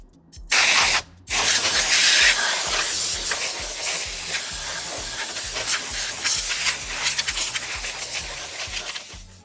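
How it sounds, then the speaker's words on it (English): Compressed air blasts out dust from an Onkyo 806 receiver on a repair bench, a loud steady hiss with two short bursts at the start before a long continuous spray. "let me use my air compressor, I'll get rid of the dust"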